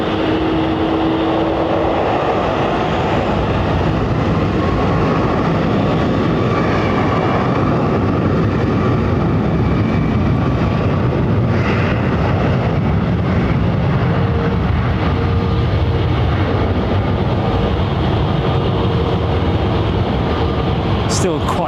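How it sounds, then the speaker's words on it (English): An aircraft on its takeoff roll at London Heathrow Airport gives a steady, broad roaring rumble that holds for the full stretch, fairly loud and continuous, with faint talk mixed in. "which basically lifts the aircraft further, more clearance off the ground on the takeoff roll."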